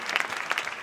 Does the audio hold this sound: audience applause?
yes